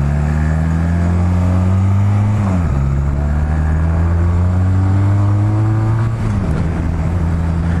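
A 250 motorcycle engine drones loudly while riding, its pitch climbing steadily through two gears with a brief dip at each shift, close and without talk.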